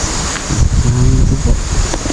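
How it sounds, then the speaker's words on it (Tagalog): Strong wind at sea roars loud and steady into the microphone, with a low rumble and buffeting gusts that swell midway through. "Lakas ng hangin."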